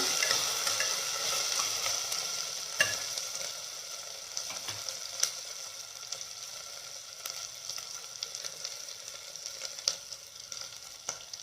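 Ingredients for a simple chicken biryani fry in a pan, a constant bright sizzle with occasional soft stirring clicks, close and even, with no talking.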